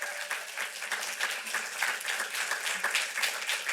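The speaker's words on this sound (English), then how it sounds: "Another round of applause." An audience at a fair housing month kickoff event claps steadily throughout, moderately loud, with no talking over it.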